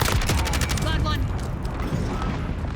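Rapid bursts of gunfire in the video game Modern Warfare 2, loud and close with a dense crackle of shots and mechanical clatter, continuing over game sounds and a radio-style voice callout.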